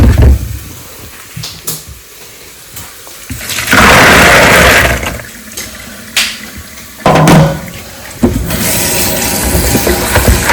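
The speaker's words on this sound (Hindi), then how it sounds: "तो ये मेरे चने, मैं इनको ना एक बार अच्छे से धो लेती हूँ, इसमें रख के धोती हूँ।" Chickpeas being rinsed in a container of water at home in a kitchen, loud sloshing and splashing bursts with clattering handling sounds between them, no talk.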